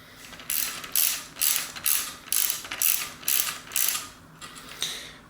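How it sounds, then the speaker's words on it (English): A screw is driven in to hold a mountain bike's brake arm during a 26-inch to 700c wheel conversion, with a steady run of loud rhythmic ratcheting clicks, about eight even pulses, close and alone without talk. "screw this in here like this to hold the brake arm in place"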